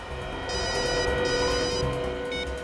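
A telephone rings steadily, a bright electronic trill that holds for a couple of seconds over low background hum and music.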